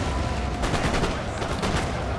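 Crackling musket volleys ring out in a Napoleon: Total War battle between British and French armies, a dense continuous rattle of overlapping shots with no pauses, loud and close throughout.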